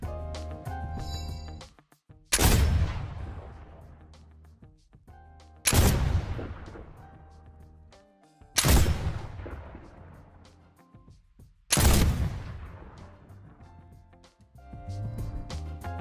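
Four heavy Flint Knock pistol shots from the Fortnite video game ring out at even intervals a few seconds apart, each a sharp loud blast with a long decaying boom, over quiet game background and no speech.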